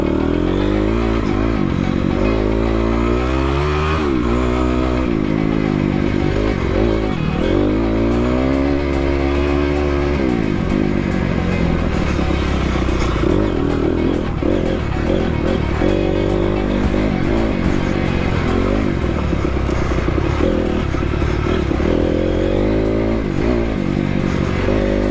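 Dirt motorcycle fitted with a Rekluse clutch riding a full lap, the engine loud and close throughout, revving up and down through gear changes with clattering over rough ground.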